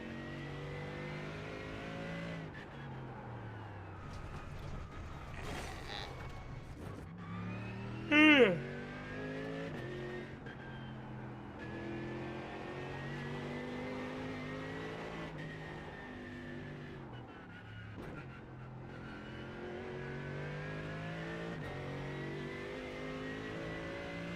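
Race car engine in the iRacing sim during a Nürburgring 24-hour race, revving and shifting through gears in rising and falling whines, with talk over it throughout.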